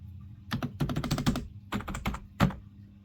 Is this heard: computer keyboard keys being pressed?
yes